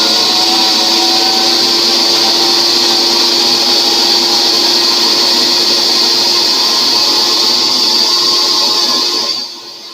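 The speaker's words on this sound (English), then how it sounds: "This is why it's so important to have a good blender, especially when you're doing raw." A blender runs loud and steady at close range for about ten seconds, whirring through a raw food dressing before spinning down at the end, with no voices.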